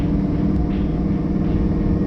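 Inside a boosted Lamborghini on a test drive, the engine gives a deep, steady rumble close by, held loud throughout a short stretch with no talk.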